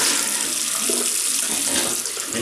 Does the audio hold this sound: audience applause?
no